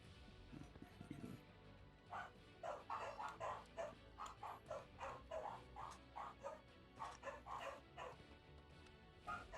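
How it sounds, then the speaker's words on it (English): Several dogs bark excitedly in a household behind a Redemption Reapers gaming session, a rapid series of loud yaps and bow-wows repeating in quick rhythm throughout, with some whimpering early on. "I apologize for ladies and gentlemen if you're hearing all these dogs in the background."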